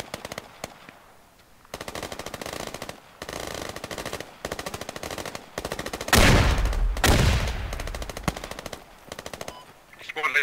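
Sustained machine gun bursts from a suppressive firefight in the military shooter Squad, rapid rhythmic rattling that swells into a loud, dense volley midway before easing back to steady automatic fire.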